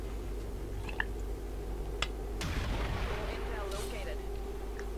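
Sniper rifle fire at a mech in XCOM 2, heard as a few sharp game gunshots, around one and two seconds and again near two and a half seconds, over a steady low in-game hum.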